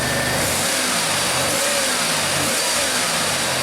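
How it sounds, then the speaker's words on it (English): A 1991 Buick with a 3800 V6 engine revs loudly and continuously close by, its roar rising and falling slightly over a steady idle-like base, with no voices. "Rev it up some more."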